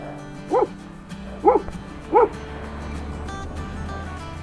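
A few dogs bark in three separate short bursts at roughly even spacing, moderately close, over a steady low hum of wind and traffic on a high mountain road in Ladakh near Khardung La.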